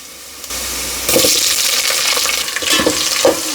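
Potatoes dropped into hot oil with browned onions and curry leaves, a brief quiet moment and then a loud, rushing sizzle that holds steady with a few stirring bumps.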